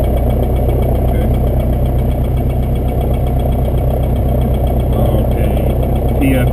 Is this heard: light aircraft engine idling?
yes